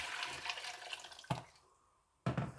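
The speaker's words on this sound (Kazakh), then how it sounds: "Енді оған пешін жоғарылатып, су құямыз." Water is poured into a cooking pot of fried meat and tomatoes over raised heat: a steady rushing pour that fades, then a second loud splash of pouring near the end, with no talk.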